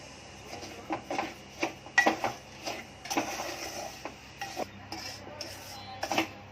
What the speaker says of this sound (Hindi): घी डालूंगी और रवा भून लूंगी